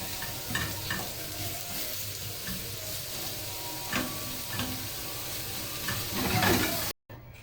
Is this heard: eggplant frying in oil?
yes